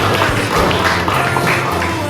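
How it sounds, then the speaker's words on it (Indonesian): A classroom group claps together at the close of a guidance-and-counselling lesson, a dense, steady patter of many hands for about two seconds, loud and close, with no voices over it. "Tepuk tangan untuk kita semuanya."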